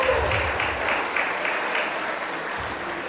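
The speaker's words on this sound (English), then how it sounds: "give Ron a big round of applause" An audience at a city State of the City address breaks into steady applause, a moderate, even patter of many hands clapping that continues throughout.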